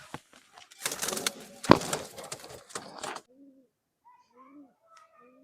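Soft, low cooing from Khulna old bloodline pigeons near the end, a few short rounded calls after a burst of flapping and rustling.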